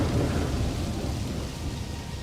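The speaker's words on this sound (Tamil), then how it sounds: "வெளியே வேகமா காத்தடிச்சு மழை பெய்யவும் ஆரம்பிக்குது." A thunderstorm roars with strong gusting wind and heavy rain pouring down, a dense, loud, continuous wash of noise with low rumbling underneath and no voices.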